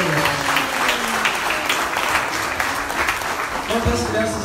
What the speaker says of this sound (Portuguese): Uma salva de palmas para Jesus, uma vez mais.